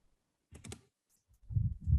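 Typing a code on a computer keyboard: a quick burst of three or four clicks, a pause, then heavier close keystrokes, with no talk.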